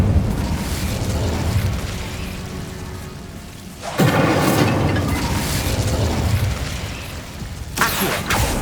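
Incendio fire spell explosion in Hogwarts Legacy: a sustained roar is broken by a sudden booming burst midway, then a second whooshing flare near the end, all loud and close.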